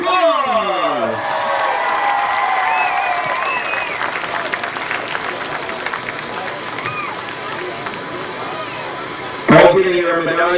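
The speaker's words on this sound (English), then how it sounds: "Let's give them a big round of applause." A crowd in the stands at a Midvale Speedway demolition derby night applauds and cheers steadily and loudly throughout, with whoops and a roaring buzz, while an announcer's amplified voice carries over the noise and a sharp burst arrives near the end.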